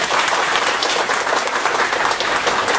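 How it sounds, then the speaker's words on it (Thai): A seminar audience in Thailand breaks into steady, dense applause, many hands clapping at once, loud and sustained throughout with no speech over it. "ขอเสียงปรบมือ"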